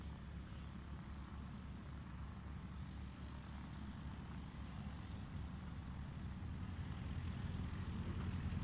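Piper Cub-type light airplane making a STOL landing pass at a National STOL qualifying event, a faint, steady, throbbing propeller-engine drone that swells slightly toward the end, with no voices.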